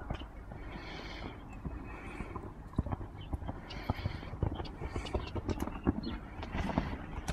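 A horse canters and gallops on a jumping lesson, its hoofbeats thudding in a loose rhythm at moderate distance while a rider's coach talks intermittently over the footfalls.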